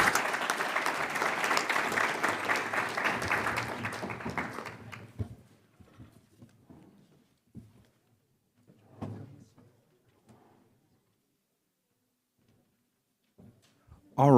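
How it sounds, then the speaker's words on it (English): Audience applause for conference panelists at a wind-turbine event on a university campus, a dense burst of clapping that fades out after about five seconds, leaving near silence with a few faint knocks and murmurs. "Please give the panelists a round of applause"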